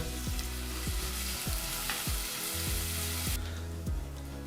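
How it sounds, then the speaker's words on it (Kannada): Finely chopped onion fries in a pan for broken wheat biryani, sending out a constant sizzling hiss punctuated by about seven regular knocking stirs, close and with no voices. "ಒಂದು ಈರುಳ್ಳಿನ ಹಾಕಿ ನಾಲ್ಕರಿಂದ ಐದು ನಿಮಿಷ ಈರುಳ್ಳಿನ ಫ್ರೈ ಮಾಡ್ಕೋಬೇಕಾಗತ್ತೆ"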